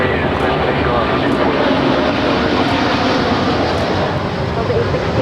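A plane takes off at LAX with a loud, steady roar of engine noise that fills the whole span and barely changes. Faint radio chatter from air traffic control may run beneath it.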